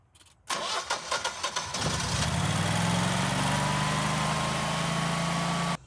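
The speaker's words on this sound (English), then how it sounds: "get the engine started." A Generac 20kW standby generator cranks in a rapid stutter of starter pulses, then catches and settles into a steady, loud engine hum that runs on evenly until it cuts off, with no talk.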